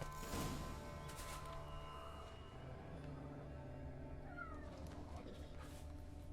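A cat meows in The Witcher 3 video game: a short mewling cry near the start, then softer calls amid ambient game sounds and faint clatter, no talking.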